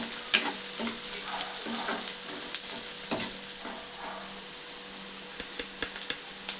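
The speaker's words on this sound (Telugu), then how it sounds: "ఇలా మంచిగా ఫ్రై కావాలి ఎండు చేపలు" Dried fish crackle as they fry in a pan, a continuous sizzle broken by sharp spatula scrapes and clicks, close by with no voices.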